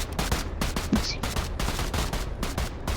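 Gunfire in a video game: dense, rapid bursts of shots that fire steadily throughout, loud and close, with no talking.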